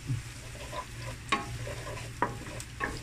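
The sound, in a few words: garlic sautéing until brown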